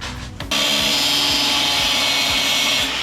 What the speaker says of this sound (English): we just gotta chop those up with an angle grinder